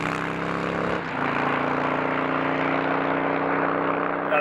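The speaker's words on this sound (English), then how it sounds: "that 1750cc V-twin engine is super torquey" A steady, throbbing engine drone from a Harley-Davidson Road King's 1750cc V-twin runs continuously at moderate loudness, with no talk.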